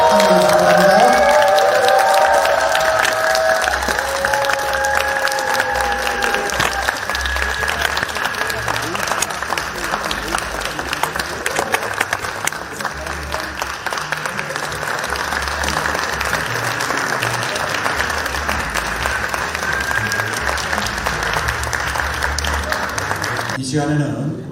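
Sustained applause from an audience at a university award ceremony, broad and continuous for over twenty seconds, with crowd noise underneath and a voice carrying over it near the start.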